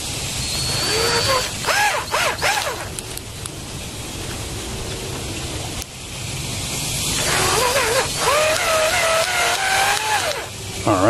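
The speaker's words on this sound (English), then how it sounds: "Alright, simply drill in." A power drill drives a screw into a dash cam mount inside a car: short whirring bursts at first, then a longer, rising, loud whine after a pause.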